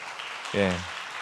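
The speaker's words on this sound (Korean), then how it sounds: "한번 박수 치면서" Church congregation applauding during a Sunday afternoon service in Pohang, South Korea: a brief, soft patter of clapping, with a voice breaking in over it for a moment midway.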